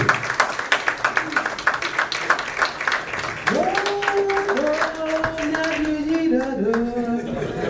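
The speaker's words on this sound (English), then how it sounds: "With a mighty round of applause, let's welcome Honorable Nana Apple." An audience at a national policy dialogue on financial inclusion claps to welcome a speaker, rhythmic clapping at first, then blending into a sung or chanted melody with voices over it.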